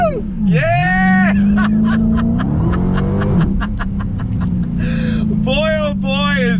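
A supercharged V8 in a Dodge Challenger Hellcat revs hard on throttle, a loud steady engine drone with rising pitch under excited shouting and whoops from people in the car.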